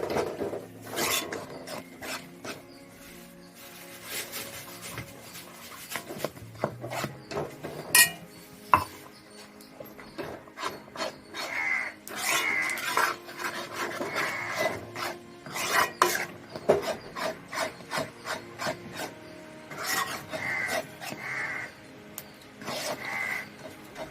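Wheat halwa dough being stirred in a pan on the heat: a long run of repeated scraping and rubbing strokes of the spoon against the metal, close and moderately loud, with occasional clinks and no speech.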